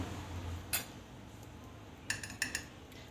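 A metal spoon clinks lightly against a bowl while black salt, dry ginger powder and asafoetida are stirred into buttermilk masala, one tap near the start and a quick cluster of small clinks toward the end.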